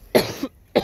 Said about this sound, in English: when you hear me cough like that and go and stuff